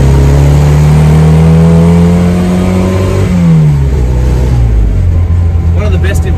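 A Leyland Mini's engine drones loudly from inside the cabin while driving, its note rising and falling with the revs as the car pulls along.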